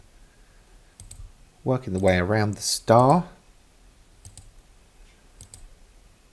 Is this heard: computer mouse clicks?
yes